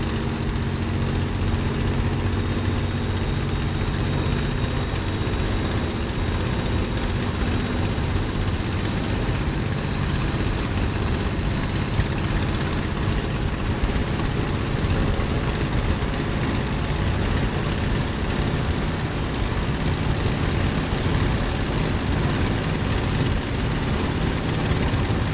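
A Messerschmitt BF109 propeller engine roars steadily at full power during takeoff in Microsoft Flight Simulator, a dense, constant drone with no voices.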